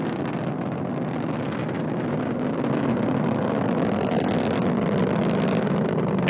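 Rocket carrying the Parker Solar Probe in powered flight, strap-on boosters at full thrust and core booster throttled down, giving a steady, loud broadband roar with wind-like rushing that holds constant throughout.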